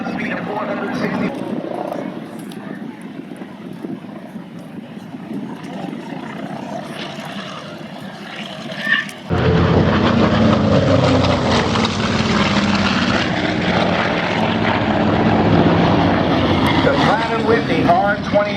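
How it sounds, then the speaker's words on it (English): A Grumman Tigercat twin-engine Navy fighter with Pratt & Whitney R2800 engines flies at an air show, a steady piston-engine roar that suddenly swells much louder midway as the plane passes close, with an announcer talking over it. "let's watch the Tiger Cat do his victory roll"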